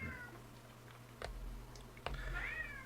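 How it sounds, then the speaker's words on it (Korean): A house cat cries to have a closed door opened, sending out a couple of faint, drawn-out meows over a low indoor hum, with a few soft knocks between them. "콩이가 또 문을 닫아놨다고 문 열라고 난리네요"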